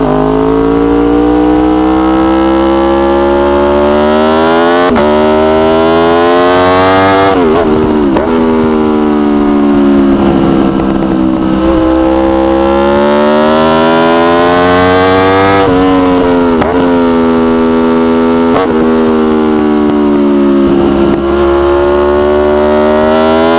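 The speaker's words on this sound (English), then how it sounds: "here's an example of the new exhaust with a bigger can." A sportbike engine revs repeatedly through a performance exhaust with a bigger can, loud and throaty, rising and falling in pitch through several blips, close by.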